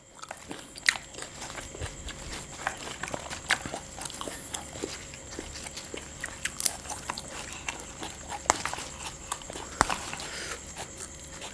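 Crunchy chewing of field apple snails dipped in seafood sauce and eaten with fresh vegetables, close-up irregular crisp bites and gristly crunches repeating throughout, with no talking.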